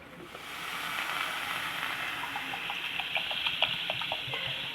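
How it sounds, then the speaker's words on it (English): Half a liter of water poured onto washed tur dal in a pot, a steady rushing splash with small droplet plinks that grows slightly fuller as the pour continues, close by with no talking. "I have added half liter of water into this."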